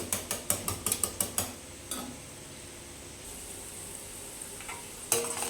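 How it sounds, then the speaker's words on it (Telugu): A wire whisk beats eggs in a bowl, clicking against the sides. A quick run of about ten rhythmic taps comes first, then a pause with a faint click, and a few more taps near the end. "ఎగ్స్ అన్ని బౌల్లో కొట్టుకున్నాం కదండి మనం ఇలాంటి విస్కర్తో ఇలా బీట్ చేసుకోవాలి మొత్తం కలిసేటట్టు బీట్ చేసుకోవాలండి"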